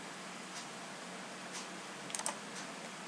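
Keys are pressed on a computer keyboard while an Excel formula is entered, with a few faint, scattered taps and a quick double click over steady hiss.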